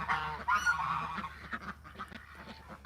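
Several geese honk loudly and repeatedly nearby in short, nasal calls that overlap at first, then thin into scattered softer honks; no talking.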